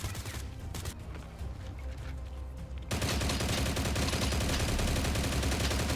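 Gunfire in the STALCRAFT shooter, starting as scattered distant shots and switching abruptly to a loud, sustained rattle of automatic fire that runs to the end.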